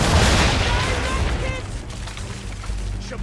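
Ship cannons fire a broadside in Assassin's Creed 3, a loud burst of heavy booms at the start that rolls into a decaying rumble, with shouting voices mixed in.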